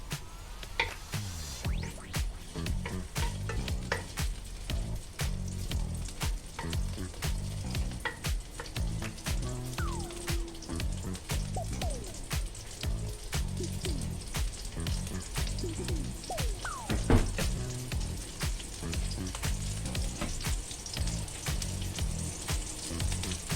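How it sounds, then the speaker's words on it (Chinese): Spices are stir-fried in a pan with a steady close sizzle and crackle, broken by frequent scraping and clinking stir strokes throughout, with no voices. "香料炒香。"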